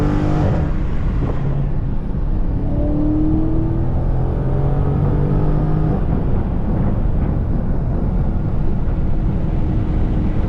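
A Scat Pack widebody car drives along with a steady, loud, low engine drone from inside the cabin, the note shifting slightly as it accelerates and holding a constant rumble throughout, with no talking.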